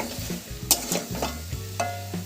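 Potato curry (alur dom) sprinkled with kasuri methi, sautéed in a pan: close, quiet sizzling under repeated scraping and clinking spatula strokes, with no talking.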